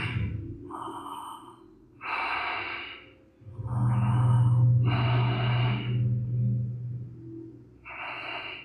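Slow, deep yoga breaths in a seated asana for high blood pressure, about five close, airy inhale-exhale cycles with pauses between and a low hum beneath the middle breaths.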